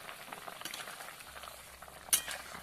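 Magur fish curry with potatoes simmering in a covered pot, a steady soft bubbling and hiss close by with faint lid or utensil clinks, one brief sharper clink near the end.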